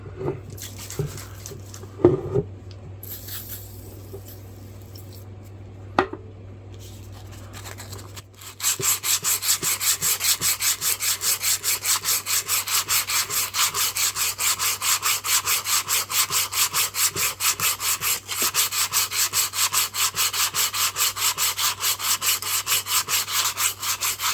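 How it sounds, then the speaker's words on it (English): Hand sanding rust off an old hammer sprayed with rim oil, a fast rhythmic scratchy rubbing that starts after several quiet seconds of scattered knocks and then continues loud and steady to the end. "spraying them down with rim oil and hand sanding them, get all this rust off of here"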